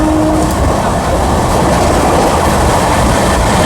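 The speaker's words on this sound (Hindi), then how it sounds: "अपनी ट्रेन मिर्ज़ापुर को स्किप करने वाली है फ्लैट" An Amrit Bharat Express train runs at high speed past a station, a loud, steady rumble and rush of wheels on rail with a continuous roar and no pauses.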